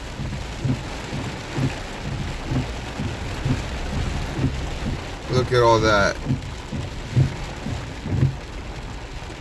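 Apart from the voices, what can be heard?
hard rain while driving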